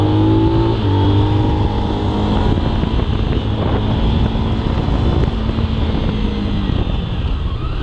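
A Zontes 310 single-cylinder motorcycle engine revs hard toward high rpm while riding, loud and steady with heavy wind rush over the microphone.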